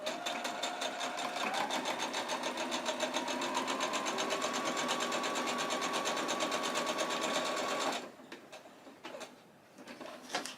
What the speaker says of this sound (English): we're going to bring it together and then sew straight across